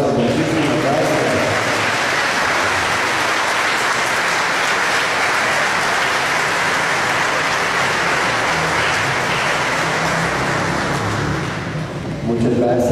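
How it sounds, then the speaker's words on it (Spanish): A congregation bursts into loud, sustained applause for a church choir at a Catholic liturgy, a dense wash of clapping that fills the room for about twelve seconds before thinning at the end. "quisiera pedir para el coro un fuertísimo aplauso."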